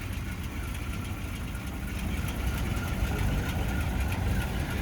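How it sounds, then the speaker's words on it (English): A 1963 Ford Thunderbird convertible in good running condition idles steadily, a low continuous engine rumble with a slight rhythmic knock, close and even throughout. "Good running car, as you can hear it running right now."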